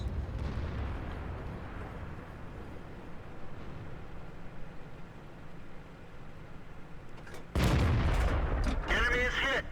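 An incoming artillery shell in World of Tanks, heard from a KV-5, lands with a sudden loud explosive boom and rumbling aftermath following a stretch of low engine drone.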